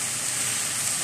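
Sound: onions frying in oil

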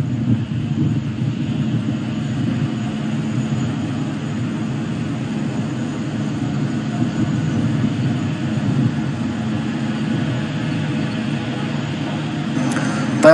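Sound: Kawasaki C-2 transport aircraft flying at airshow, General Electric engines

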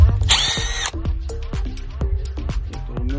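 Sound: power drill removing Phillips screws from truck radio

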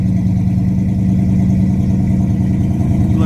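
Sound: 1972 Oldsmobile Cutlass engine idling with dual exhaust

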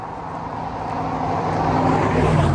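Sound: cars passing by on road

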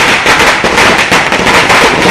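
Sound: firecrackers bursting during festival celebrations

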